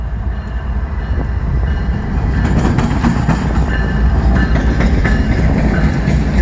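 A CN freight train rolls past at close range in Durand, Michigan, a loud, steady rumble of rail cars with rhythmic wheel clatter and faint squeals, continuing throughout with no talking.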